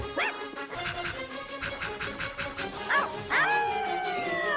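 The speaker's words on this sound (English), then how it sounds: "it has like barking noises as it chases them" A balloon dog creature in the film Killer Klowns from Outer Space (1988) barks and yips in a rapid, excited run, ending in a drawn-out whining howl; close and fairly loud throughout.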